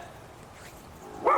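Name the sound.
dog Max barking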